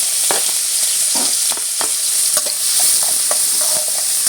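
Chopped onion fries in a pan with a constant bright sizzle while a spatula stirs it, scraping and tapping at an irregular pace, close and loud with no talking.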